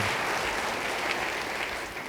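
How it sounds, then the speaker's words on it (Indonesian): Church congregation clapping together, a dense, steady wash of applause that carries on evenly throughout, slightly easing at the end. "Beri tepuk tangan yang baik bagi dia."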